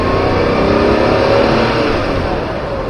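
A 1983 Porsche 911 3.0 SC engine revs steadily and loudly up close, a dense continuous roar that swells slightly and then eases off over a few seconds, with no talking.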